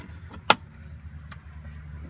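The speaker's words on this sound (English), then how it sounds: "we're going to close those doors." A door on a 2015 Kia Sedona minivan shuts with one sharp, close thud, followed by a fainter second knock a moment later over a low background hum.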